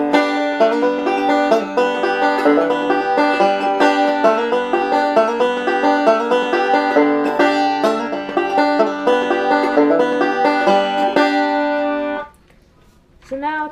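Cripple Creek played slowly on a plucked stringed instrument, with steady picked notes, slides and hammer-ons ringing clearly and continuously for about twelve seconds before stopping.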